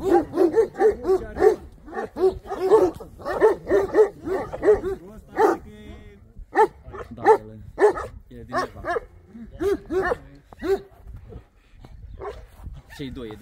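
Large shepherd dogs on a farm barking repeatedly in quick bursts, close and loud, with some whimpering yips mixed in, interrupted by a pause before more barks.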